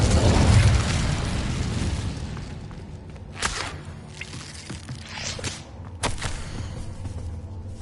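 An Incendio fire spell cast in a Hogwarts video game: a loud whooshing burst of flame up front, followed by several sharp cracks and whip-like snaps that trail off against a quiet background.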